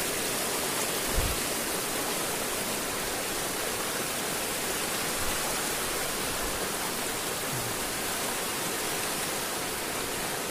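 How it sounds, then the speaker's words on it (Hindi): River water rushes and flows steadily close by as people prepare to wade across it in hilly forest country, a loud, continuous broadband roar with a few faint thumps. "इधर देख सकते हैं इधर से भी आ रहा है पानी, और इधर से भी"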